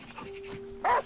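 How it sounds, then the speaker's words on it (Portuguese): A dog in the video game Last Day of June gives a short bark or yip near the end, brief and fairly close, after a quiet stretch with a faint steady tone underneath. "A gente consegue chamar o cão?"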